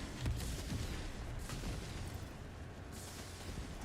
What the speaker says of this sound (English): They're bombing us from behind.